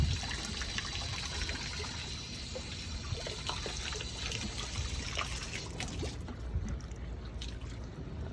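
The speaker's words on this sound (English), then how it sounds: "you can flip this on, and then you'll hear the water come through" Water rushes through a nozzle after being switched on, a continuous hissing trickle and splash that runs at steady strength, then thins a little near the end.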